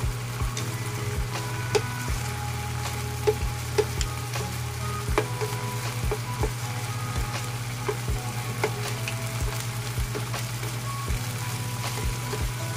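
Beef steak, pounded and marinated overnight for bistek, sizzles steadily in a pan as it gets flipped, with a constant frying hiss and occasional scraping clicks; no one speaks.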